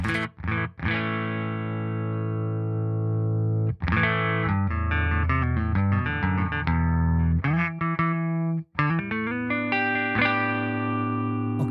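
Electric guitar played through the Neural DSP Archetype Rabea amp plugin with no dry signal, heavily processed and distorted. Sustained chords and riffs ring out loud and continuous, with a few brief gaps and dense harmonic overtones throughout.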